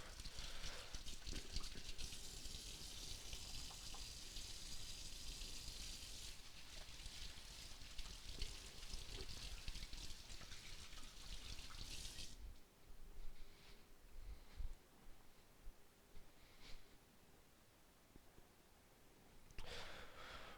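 A kitchen tap runs steadily while hands are washed, a continuous close gush of water that cuts off partway through, leaving faint quieter sounds and a brief splash near the end.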